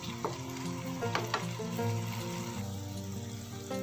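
Kerala-style ginger curry sizzles and bubbles steadily in oil over a low flame, with a continuous close crackle and gentle stirring scrapes over soft background music.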